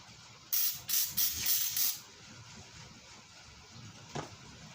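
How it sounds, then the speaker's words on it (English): Spray lubricant from an aerosol can is sprayed onto a rag in several short hissing bursts of about a second and a half total, close and fairly loud, followed by quiet with a brief faint click. "What I'm going to do, I'm going to spray a little bit on my rag."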